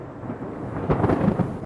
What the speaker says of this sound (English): very violent thunderstorms with a mixture of hot arid dry air and hot humid air